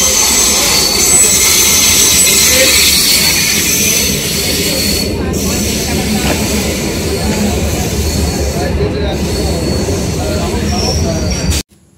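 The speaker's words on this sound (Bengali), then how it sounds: "তো এদিকে ট্রেনে উঠে গেছি।" A local train bound for Sealdah rumbles along steadily with clattering wheels and a high metallic squeal, loud and continuous before cutting off abruptly near the end.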